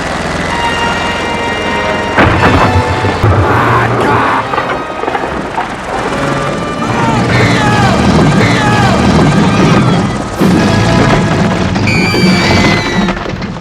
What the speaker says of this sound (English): a helicopter soon arrives at the scene